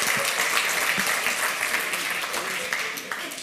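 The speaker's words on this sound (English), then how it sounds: "So give him a round of applause" A conference crowd at the 28c3 hacker congress gives a round of applause for a talk's speaker, a steady, dense wash of clapping that holds evenly from start to finish.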